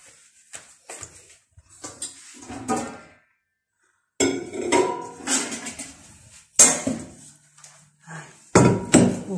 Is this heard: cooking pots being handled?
yes